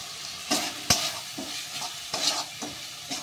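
A spice paste is stir-fried in a pan with a steady sizzle, broken by repeated scraping strokes of a spoon, loud and close, with no talking.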